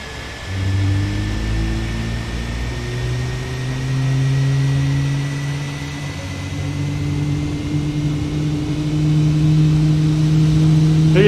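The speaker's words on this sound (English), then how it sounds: "We'll go out and we'll take a listen." A simulated A320neo jet engine in Microsoft Flight Simulator spools up at start, a steady rising whine with low rumbling tones that climb and hold, heard from outside the aircraft with no talk.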